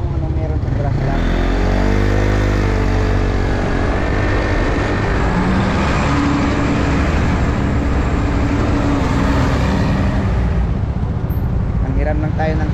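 A motorcycle ride through the grasslands of Taiwan, with steady engine and road noise roaring continuously and close, wind buffeting throughout, and voices talking over it.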